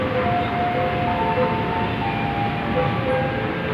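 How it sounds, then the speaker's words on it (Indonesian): A KRL commuter train bound for Bogor passes through Universitas Pancasila station, giving a steady, dense rumble and rush of wheels with faint tonal squeals, unbroken for several seconds. "Ini ada lagi nih KRL ke Bogor"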